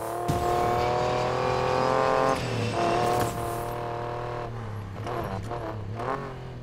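A Ford Raptor engine in the Need for Speed Payback racing game, a steady, loud drone that swells, eases off and revs again as the truck drives along, with no talk over it.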